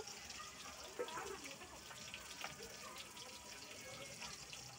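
Tap water runs steadily into a sink or basin at home as a small child is bathed, a constant broadband gush close by with slight splashing variations throughout.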